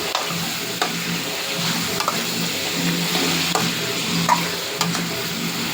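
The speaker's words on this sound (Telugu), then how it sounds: "ఆయిల్లో బాగా ఫ్రై చేయాలి ఇది" Green chilli chicken pieces frying in hot oil for a chicken gravy, a steady close sizzle broken by soft scraping stirs and a few sharp clicks of a spoon against the pan, with no voices.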